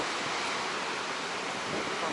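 Rough Baltic Sea surf off Svetlogorsk under strong wind, a continuous broadband roar of breaking waves and buffeting gusts on the microphone, steady and loud with no talk.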